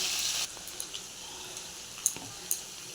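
Potatoes and green chili fry in a pan on a home stove, a faint steady sizzle with occasional light ticks and clinks, no voices.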